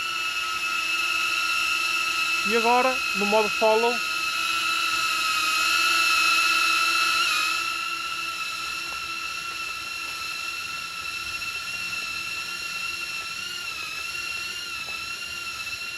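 A HOVERAir X1 ProMax 8K camera drone hovers in follow mode, giving a steady, high, even whine that holds throughout. A person speaks briefly near the start.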